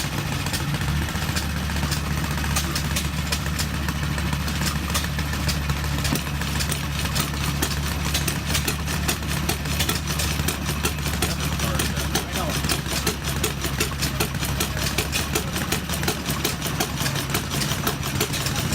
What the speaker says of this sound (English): This is the Home Depot air compressor hit and miss engine.